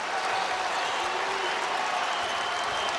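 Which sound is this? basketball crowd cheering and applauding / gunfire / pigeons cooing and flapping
basketball crowd cheering and applauding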